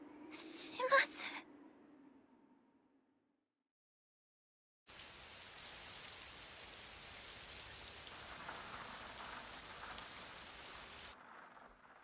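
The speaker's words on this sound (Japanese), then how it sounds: "雨やみませんね。" Steady rain falls in an anime scene, a soft continuous patter after a short burst of voices and a silent pause, then cutting off near the end.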